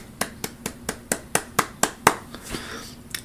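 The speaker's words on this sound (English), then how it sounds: "there was some sarcastic clapping there" Slow, deliberate clapping from one or two people, about a dozen sharp claps spaced evenly and then trailing off, clear and fairly close in a quiet room with a faint steady hum underneath.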